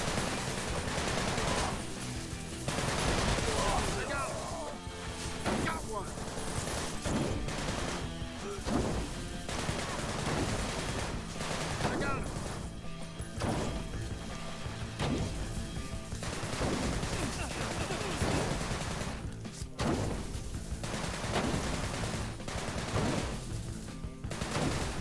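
Continuous gunfire with rapid bursts and crashing impacts, loud and busy for the whole stretch with no clear pauses.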